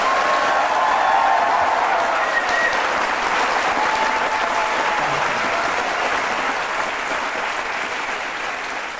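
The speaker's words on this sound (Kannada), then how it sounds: "ಇಲ್ಲಿ ಜನ ಏನ್ ಕೂತು ಚಪ್ಪಾಳೆ ತಟ್ತಾ ಇದಾರಲ್ಲ" A studio audience on the Aap Ki Adalat show applauds in a sustained, even roar of many hands that stays loud throughout and eases slightly toward the end.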